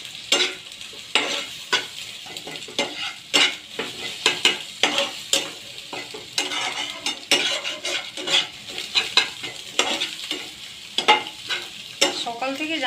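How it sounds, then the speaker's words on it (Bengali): An egg fries in a pan for Maggi noodles, a low sizzle under repeated scraping and tapping of a spatula against the pan, the strokes coming in an irregular rhythm close by, no talk. "আমি ডিমটা ভেজে নিই।"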